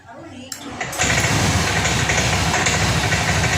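A Honda Scoopy scooter is cranked on its electric starter, with a short whirring crank and then the small engine catching and running steadily, loud and near; a voice speaks briefly at the start.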